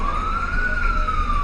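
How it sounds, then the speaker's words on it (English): A wailing emergency vehicle siren sweeps steadily near a Bleckley County high school football game, loud and continuous over low crowd and road rumble, with no talk. "I hear sirens everywhere."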